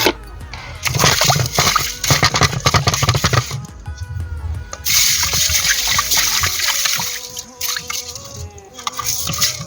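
Sardines being washed and turned by hand in salt water slosh and splash in uneven bursts, with drips and trickles between, close up, while a voice talks at times.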